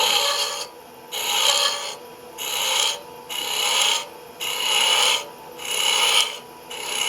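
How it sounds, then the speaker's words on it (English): A spindle gouge hollows a wooden finial lidded box spinning on a lathe: close, loud rasping cuts come in about six regular bursts with brief gaps between them, and no one speaks. "this is going to get a little loud and annoying sounding because there's vibration, because let's face it, this is a spindle gouge"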